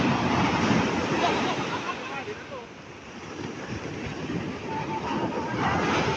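Steady wash of breaking surf and rushing water, fairly loud and continuous, swelling and easing slightly over several seconds.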